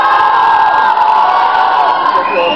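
A live theater audience shouts and cheers loudly in reply to a question, a dense close roar of many voices whooping together that holds steady for about two seconds.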